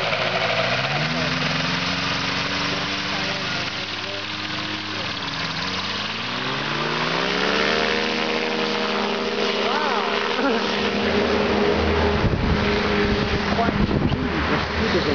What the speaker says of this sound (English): It's a piston driven engine, and it takes about most of the power.